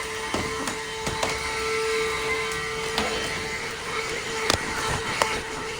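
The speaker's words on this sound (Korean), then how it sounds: "이 청소기 맞죠?" A household vacuum cleaner runs steadily with a constant droning whine, broken by scattered clicks and knocks. No one speaks.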